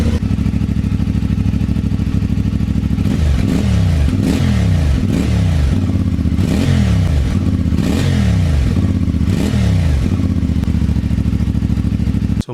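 A CFMoto 450MT motorcycle with its stock exhaust idles close by with a steady, fairly quiet rumble, then gets a series of about six quick throttle blips that rise and fall before settling back to idle.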